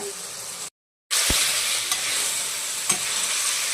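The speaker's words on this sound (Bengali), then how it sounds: "এবার মশলাটা কষানো হবে" Spice masala frying in a pan for a pabda and bhola fish curry with cauliflower and potato, a continuous close sizzle with occasional stirring knocks, briefly cut to silence near the start, no talk.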